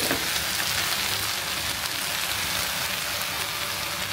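Food bubbles and sizzles steadily while cooking, a soft, continuous hiss and crackle close by with no other sounds.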